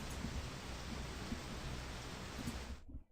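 Steady rain in a horror video game, a dense, even hiss of falling drops that continues without a break and cuts out abruptly near the end.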